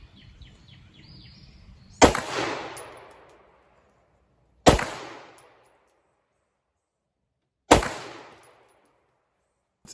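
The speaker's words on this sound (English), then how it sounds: "I'm going to look really precisely at the target and then fire the rounds" Three gunshots from a red dot sighted gun aimed at a steel target, each a sharp loud crack with a ringing decay, spaced a few seconds apart in otherwise quiet surroundings.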